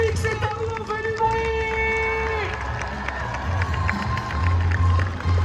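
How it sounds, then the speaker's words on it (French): Spectators at a triathlon finish line cheering, shouting and clapping outdoors, a busy crowd roar with whistles and tonal calls, voices mixed throughout. "Public, c'est à vous, on fait du"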